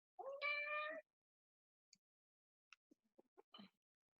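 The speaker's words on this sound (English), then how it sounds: "that was my cat" A pet cat lets out one loud, drawn-out meow near the microphone in a quiet room. A few faint, brief clicks and small noises follow after a pause.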